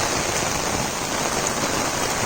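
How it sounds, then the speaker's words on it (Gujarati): Dense, loud, unbroken hiss of heavy rain pouring down close by, steady throughout with no voices. "જોરદાર વરસાદ"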